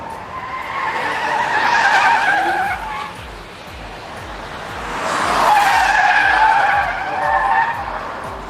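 A Rolls-Royce Cullinan is driven hard on a race track, its tires squealing and skidding in two long, loud bursts, with engine roar underneath.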